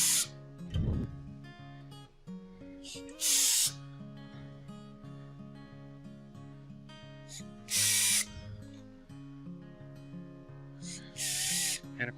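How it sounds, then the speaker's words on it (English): An air drill drives screws in a woodworking shop, sounding as short bursts of sharp pneumatic hiss that repeat at spaced intervals, loud and close over a quieter background of hum and light shop noise. "I like these air drills for the speed."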